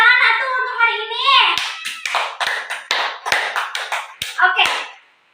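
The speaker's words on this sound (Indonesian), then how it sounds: "Tepuk tangan atuh untuk hari ini" After a speaking voice, a classroom of students claps together during a microteaching lesson. Crisp, close handclaps come in quick, uneven bursts for several seconds before stopping.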